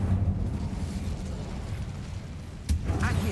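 Incendio fire spell cast in Hogwarts Legacy, a deep roaring whoosh of flame that rumbles steadily and then ends in a sharp burst.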